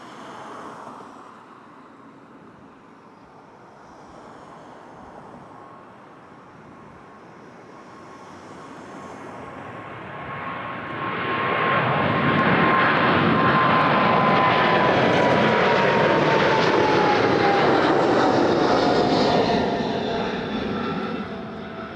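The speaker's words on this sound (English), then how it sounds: "Air Canada's 777-300 ER" Air Canada Boeing 777-300ER at Toronto Pearson airport, its engines a broad roar that builds from a distant rumble to a loud, sustained blast with a rising whine, heard alone.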